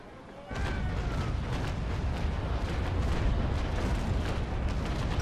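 Naval Action warship cannon broadside roars out as a dense, sustained rumble of overlapping booms after a brief lull, continuous heavy blasts filling the clip.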